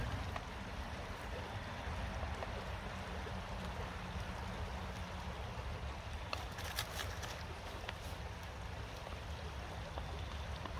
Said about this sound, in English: get running water in the path of running water that will help fill it up quicker.